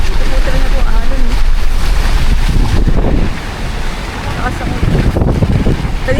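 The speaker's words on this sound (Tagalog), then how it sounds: "Ito po talaga po ang alon." Ocean waves and surf on a rainy, windy day, a loud steady wash of water with heavy wind buffeting the microphone, easing slightly in the second half, with no clear talk over it.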